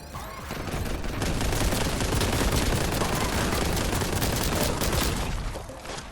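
Rapid boltgun fire from a video game pours out in a dense, loud, sustained burst of repeated shots that swell and then taper off near the end, with no voices.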